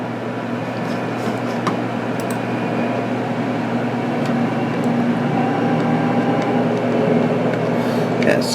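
An Illinois Central train running on the Browns, Illinois route in Trainz Simulator 2012 gives a steady, loud low diesel drone with a constant mechanical hum that holds without break throughout.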